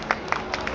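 A few scattered claps from the audience at a Hong Kong photo-contest award ceremony, roughly four separate hand claps spread across less than a second.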